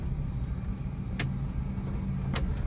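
A car engine hums evenly during a slow left turn with the clutch worked carefully, a steady mid-level drone with a couple of faint clicks and no talk.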